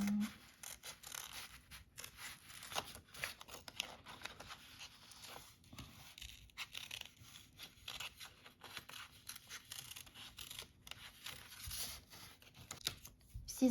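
Scissors snip through paper while cutting out a pumpkin-shaped papercut decoration: quiet, close, repeated short crisp cuts and paper rustles in an otherwise hushed room.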